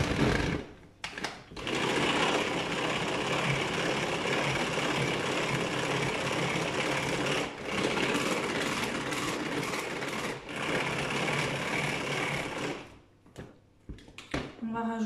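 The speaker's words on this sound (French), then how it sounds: "je vais mélanger avec mon Speedy Chef déjà ces 3 ingrédients" Speedy Chef kitchen mixer blending three ingredients, a loud, steady buzzing whir running continuously for several seconds with brief pauses, preparing rice pudding.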